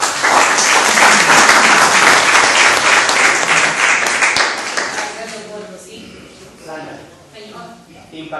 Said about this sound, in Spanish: Sinceramente, un buen aplauso para ellos.